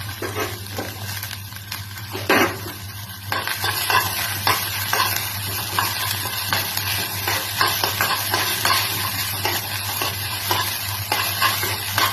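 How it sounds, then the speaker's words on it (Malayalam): Carrot and beetroot sautéing in oil for wheat rava upma, a continuous close sizzle broken by frequent scraping stirs of a spatula against the pan, with no voices. "ഇനി അടുത്തതായിട്ട് നമുക്ക് ക്യാരറ്റും ബീറ്റ്റൂട്ടും മൂപ്പിച്ചെടുക്കാം."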